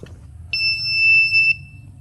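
A repaired timer board beeping after being plugged in: one loud, clear electronic tone lasting about a second, alone over faint background hum.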